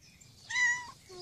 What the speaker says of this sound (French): Une petite minette.